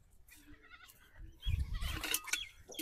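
Goats on a dairy goat farm bleat repeatedly, several wavering cries close by, louder and overlapping toward the end, with farmyard noise around them.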